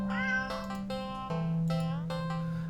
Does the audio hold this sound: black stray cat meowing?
yes